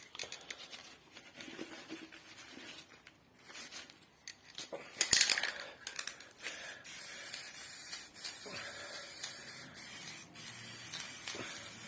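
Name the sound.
spray paint can spraying, nearly empty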